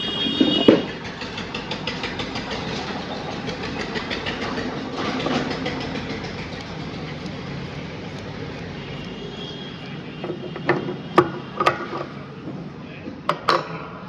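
A sewing machine stitches a half collar, a steady whirring motor drone with rapid rhythmic needle chatter, close by, with a few sharp clicks near the end.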